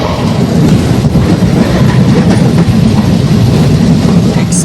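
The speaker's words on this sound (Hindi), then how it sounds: "आस्था स्पेशल ट्रेन क्रॉसिंग होता हुआ हमारी दर्शन नगर तिरुवनंतपुरम" A brand new LHB-coach Aastha special train crosses at speed near Darshan Nagar, a loud, close, continuous roar of wheels and rushing air with rhythmic clatter and a brief squeal near the end.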